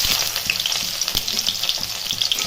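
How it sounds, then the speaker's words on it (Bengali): Chopped onion frying in mustard oil with cumin seeds, a steady close sizzle with faint occasional stirring clicks and no voices. "পেঁয়াজটাকে একটু ভালো করে ভেজে নিতে হবে।"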